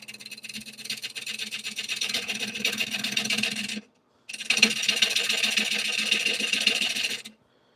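A wood lathe spins up to around 500 RPM while a tool rounds a workpiece, throwing off curls; a loud, steady raspy cutting roar runs for several seconds, pauses briefly, then resumes.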